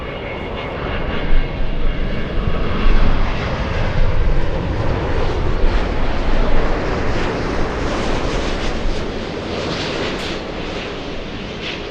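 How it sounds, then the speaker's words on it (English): El Al airliner on short final into LAX, a loud continuous jet engine roar with a broad rumbling hiss that swells slightly mid-pass, no voices. "We have El Al on short final."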